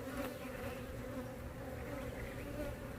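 Honey bees swarm and drone around backyard beehives, a dense, even buzz close to the ear that holds steady throughout without any talking.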